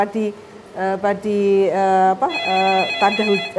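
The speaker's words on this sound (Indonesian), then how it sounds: "Kita terima telepon dulu nih Bu Ningsih juga Pak Anto." Electronic telephone ringtone signalling an incoming caller on a nighttime radio talk show, a loud melodic warbling pattern repeating in bursts with brief gaps.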